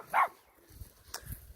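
A puppy gives a short sharp bark up front, then a few low, faint whimpering and snuffling sounds follow close by in a quiet outdoor garden.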